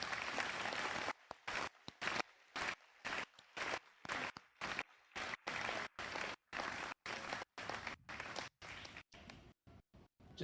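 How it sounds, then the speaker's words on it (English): Audience applause for preschool teachers at a PreK moving-up ceremony, heard in an odd, regularly chopped pattern of brief bursts with short silent gaps, steady and moderately loud throughout. "Can we please give a round of applause for the teachers?"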